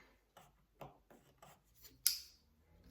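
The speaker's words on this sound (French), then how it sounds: "vous allez prendre votre plioir. Donc, je vais le faire avec vous. Et on va venir marquer les plis de ces diagonales." A bone folder pressing and scraping along diagonal creases in paper for a pop-up card: a series of soft, short rubbing strokes, then one sharper crisp scrape, close and quiet with no talking.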